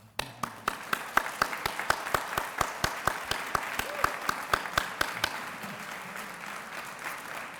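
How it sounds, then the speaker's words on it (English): A conference audience breaks into steady applause, many hands clapping in a dense, even patter that swells quickly and holds before thinning out near the end. "let's have a round of applause for our conference"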